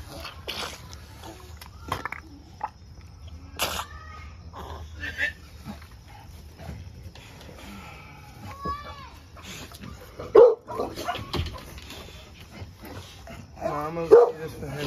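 An American Bully puppy yips and barks in short bursts at home, with people talking over much of the scene and a couple of sharper barks near the end.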